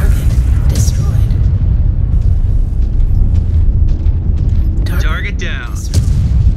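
A destroyed target mech blows up in MechWarrior 5: Clans, a loud, continuous rumbling explosion that stays heavy throughout, with brief sharp bursts near the end.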